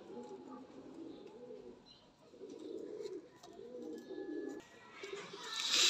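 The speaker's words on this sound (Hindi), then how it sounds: "बहुत नायाब और बहुत परवाजी कबूतर है ये।" An amber breeder pair of pigeons coos in soft repeated rolling phrases, close by and steady, with faint background noise rising toward the end.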